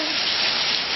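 Hail and rain falling during an April hail storm, a steady dense patter of drops hitting surfaces, constant and moderately loud with no voices.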